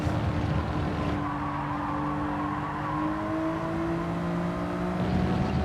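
Race car engine in Gran Turismo holding a steady droning whine with rising and falling revs, loud and continuous throughout, with no talk over it.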